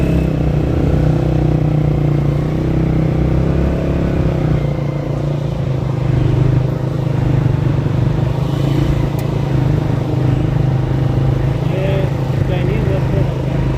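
Busy street traffic in Rawalpindi's Sadar Bazar, with motorcycles and cars droning and revving close by in a constant loud wash, while people talk over it.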